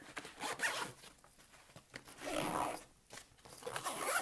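A zipper closes on a Vanquest Falconer 27 backpack in several quick, close pulls, raspy ripping strokes separated by short pauses, with no voices.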